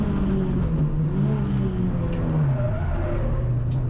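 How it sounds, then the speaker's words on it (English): A BMW race car at Anglesey locks its front brakes and slides, tires howling and skidding with a steady wavering squeal over loud engine and road noise. "BMW locks up in front and goes straight on"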